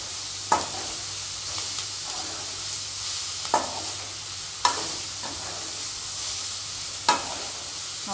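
Ingredients for a South Indian thuvaiyal sizzle softly in a pan, broken by a few sharp scraping stirs of a spatula at irregular intervals, close and fairly quiet with no talking.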